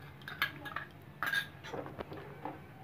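A spoon stirs sugar into an orange shake in a pot, giving soft scraping and light metallic clinks against the pot's side, quiet and close, in a few irregular strokes.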